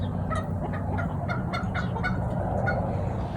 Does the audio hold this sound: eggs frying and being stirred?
no